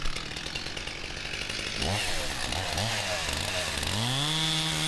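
A Stihl chainsaw revs up and bogs down repeatedly as it bites into a windfallen pine, loud and close, engine pitch rising and falling.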